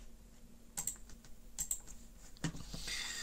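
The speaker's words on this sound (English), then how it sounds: "if you go onto Google and type in cleaning products" Typing a search on a computer keyboard: a few quiet, close key clicks in small bursts, with brief pauses between them and a faint low hum in the background.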